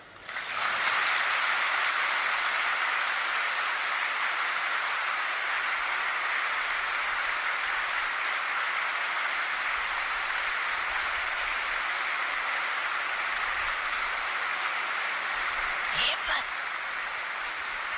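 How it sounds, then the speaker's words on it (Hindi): Audience applause at a Brahma Kumaris gathering in Atlanta, a steady dense clapping that starts abruptly and holds at even strength for the whole stretch, slightly fading near the end. "ताली बजाओ।"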